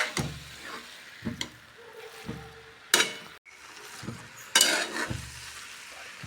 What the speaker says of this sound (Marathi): बघा आता ह्याच्यात मी गाजर टाकलेला आहे